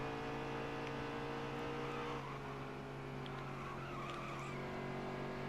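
Racing trucks roar around a NASCAR Heat 3 oval, engines holding a steady sustained drone with tires squealing and scrubbing midway, close and continuous throughout.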